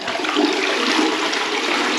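A newly installed toilet pan flushes in a bathroom, a loud, close rush of water that pours steadily throughout.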